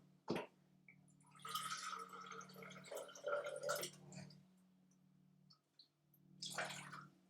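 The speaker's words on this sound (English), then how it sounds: "Kind of needs some more water, so we're just going to add in a little bit more." Water is poured and trickled into a bowl of flour dough, giving soft splashing and squishing bursts near and quiet, with a brief drip and pauses between.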